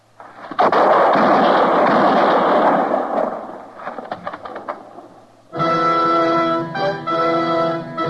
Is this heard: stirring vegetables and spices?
no